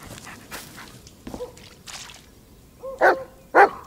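Dog barks in the horror game Blair Witch (2019), a few sharp yelps scattered through a quiet stretch, the last two louder and closer.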